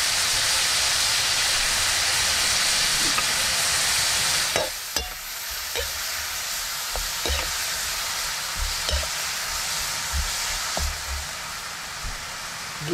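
Cleaned mushrooms sautéing in a pan, a steady loud sizzle and hiss running throughout, interrupted by sharp clicks and scrapes of a utensil stirring, with the frying dropping slightly partway through.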